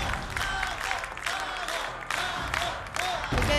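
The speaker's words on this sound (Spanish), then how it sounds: "El público te recibe con un fuerte aplauso." A television studio audience gives strong applause with some cheering, a dense continuous clapping crowd that swells in bursts, with voices heard through it.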